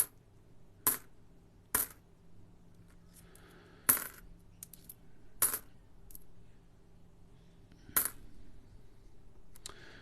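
Australian 5-cent coins clink and drop in sharp isolated metallic bursts, roughly six separate hits spread over quiet background, during a coin hunt through a $100 batch.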